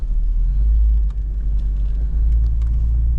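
A Jeep Cherokee engine rumbles in reverse, a deep continuous low drone with slight load changes, close and steady, with faint clicks and knocks over it.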